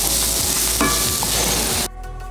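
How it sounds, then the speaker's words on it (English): Onions caramelizing in a pan sizzle loudly and steadily up close with a stir partway through, then the frying noise drops abruptly near the end. "I'm gonna get these onions nice and caramelized"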